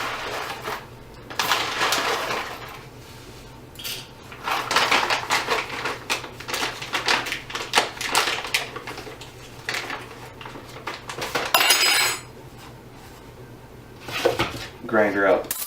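A large spoon scoops coffee grounds for a Protea Romanza espresso machine, making repeated close scraping and clinking bursts. A voice talks under part of it, and a brief rattle follows near the end.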